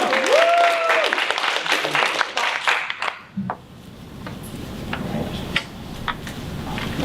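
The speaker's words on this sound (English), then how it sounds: "let's give them a round of applause" An audience at a panel event on women and girls applauds, with brisk dense clapping for about three seconds that then drops to scattered claps and quiet room noise.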